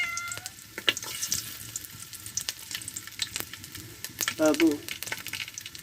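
A dried fish dish with garlic and curry leaves fries in a pan with a scattered crackling sizzle, punctuated by stirring scrapes, while someone speaks briefly and a cat meows faintly near the end.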